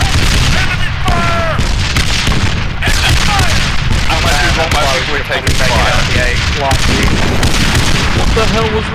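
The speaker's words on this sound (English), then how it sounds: "What the hell was that? Oh yeah. That's the auto cannon." Rapid auto cannon bursts in the ArmA 3 military shooter, loud booms and gunfire crashing through a busy firefight while several players shout and talk over the shots.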